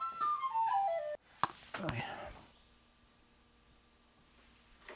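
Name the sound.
whistle played during sound check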